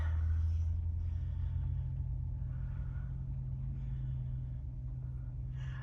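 Cars drive out of a church parking area after an Ash Wednesday service, a continuous low engine rumble that starts close and loud and slowly eases, with faint traffic noise behind and no talk.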